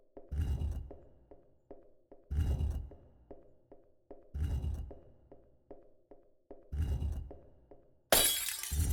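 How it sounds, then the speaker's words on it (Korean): A glass bottle is dropped and shatters in the Korean horror game Witch's House. Five sharp smashing bursts repeat at a steady pace, each one followed by small tinkling fragments. A loud burst of noise comes in at the end. "병을 떨어뜨렸다."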